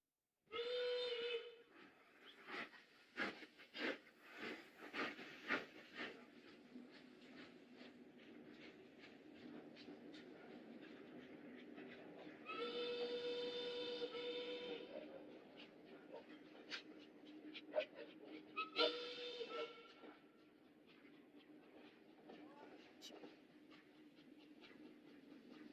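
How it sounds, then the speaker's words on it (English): A train sounds repeated whistle or horn blasts over a steady rolling rumble, panned from left to right, with three prominent blasts at the start, middle and near the end. "you can hear that this train is moving from left to right"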